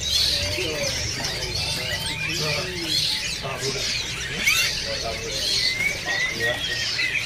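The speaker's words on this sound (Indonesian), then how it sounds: "Ada juga burung pleci mentanus" Among many caged songbirds at a bird market, a montanus white-eye pleci gives bright, quick chirping phrases, over a steady low hum of market noise and distant voices.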